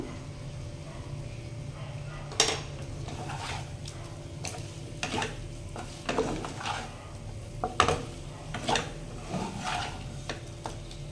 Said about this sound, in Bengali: বেশ নুনটার সাথেও কিন্তু আমার এখানে এটা ভালোভাবে মেশানো হয়ে গেছে